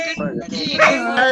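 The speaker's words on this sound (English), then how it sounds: "Sorry about my dog." A pet dog gives a few sharp, close barks and yips in quick succession during a noisy online call, loud and near.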